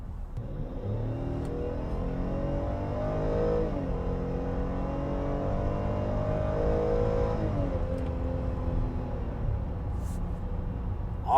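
A Chevrolet Traverse with a Cadillac-sourced engine accelerates hard, its steady engine note climbing in pitch and dropping briefly as it shifts gears, loud and close with no talking.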